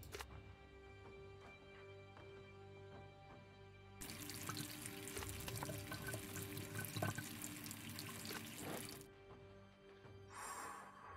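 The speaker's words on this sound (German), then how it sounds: "Na gut, dann gehen wir mal zum Wasserhahn." A video game water tap runs to wet a cloth, a steady rushing stream starting suddenly and flowing for about five seconds before cutting off, over quiet game ambience.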